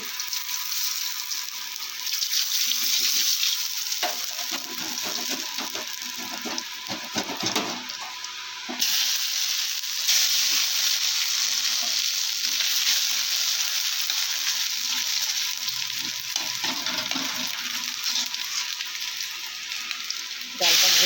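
Dried red chillies and cumin seeds fry in hot oil with grated ginger for a fish-head kalai dal, a loud continuous hiss and sizzle close up with brief stirring scrapes.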